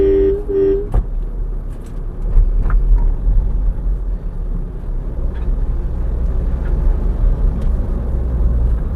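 2019 Mahindra Marazzo seven-seater driving on Eluru road, heard from inside: a steady low rumble of engine and tyres, with a brief horn toot near the start.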